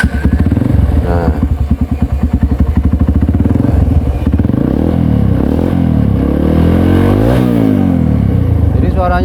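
A modified 2014 Honda Verza motorcycle engine and exhaust rumble close by, giving a loud, steady throaty note. The pitch rises and falls a few times as the engine is revved, and a voice may be talking underneath.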